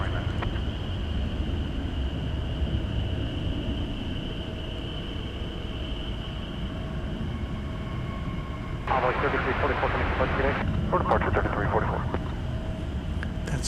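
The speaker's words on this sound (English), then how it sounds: "That was American 2281 arriving from Chicago O'Hare International Airport" An American Airlines Airbus jet arriving at DFW airport from Chicago O'Hare, a steady distant engine roar running throughout, with a brief broadband rush near the end and a voice talking over it.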